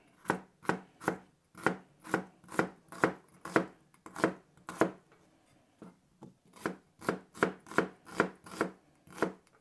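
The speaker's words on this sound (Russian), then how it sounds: "порезать две луковицы и порезать перец" A knife chopping onions and bell peppers on a board for Caucasian-style khashlama, a long run of evenly spaced sharp chops close up, with a brief pause midway before the rhythmic cutting resumes.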